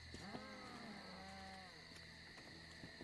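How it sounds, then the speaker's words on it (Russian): A cow moos in the video game Metro Exodus, a long low call heard from a distance and faint beneath steady game ambience and hum. "Кто мычит? Муу."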